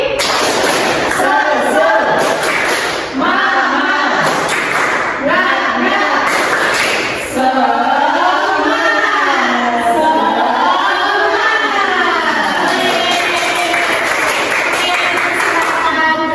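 A classroom of children doing a rhythmic cheer clap with the teacher, loud group clapping in bursts mixed with excited shouting and chanting voices, close and continuous throughout.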